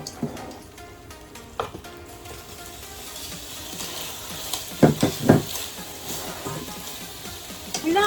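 Adobo frying in a pan, a soft steady sizzle with occasional sharper crackles and pops near the end, close and moderately loud, with no talking.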